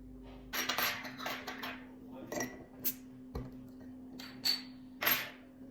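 Cutlery and dishes clinking while coffee is made at home, a series of short bright clinks and taps spread over several seconds against a steady low hum, fairly quiet.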